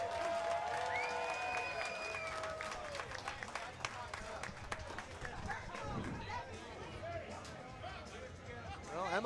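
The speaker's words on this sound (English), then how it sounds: "I think they deserve a little bigger round of applause than that" Crowd applauding after a women's amateur fight at an Aries Fight Series event, a steady spread of clapping and chatter in a large room, with an announcer talking over it.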